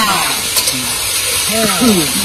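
Fish head frying in hot mustard oil in a wok, a steady close sizzle running throughout, with faint voices talking in the background.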